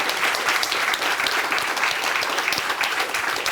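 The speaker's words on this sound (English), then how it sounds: "Just a round of applause." Sustained audience applause at a symposium after the presentations, steady dense clapping from a crowd filling the room throughout with no pauses.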